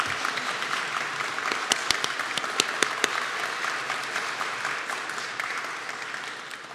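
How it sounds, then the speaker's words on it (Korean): A church congregation at an Easter service applauds together, a dense, steady patter of many hands clapping that gradually fades toward the end. "서로에게 위로와 또 격려와 감사의 박수를 치면서 참 애썼다고 서로를 축복해 주시기 바랍니다."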